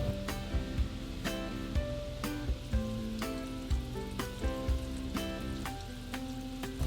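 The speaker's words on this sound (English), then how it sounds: "Now we can deep fry for about 2 minutes on medium-high heat." Pork pieces deep frying in oil over medium-high heat, a dense bubbling sizzle with regular sharp clicks or taps recurring throughout, steady and moderately loud.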